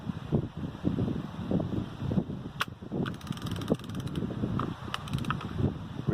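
A baitcasting fishing reel loosened to provoke a backlash, giving a quiet run of clicking, ratcheting mechanical ticks with a few sharper clacks, close by and steady with no talking.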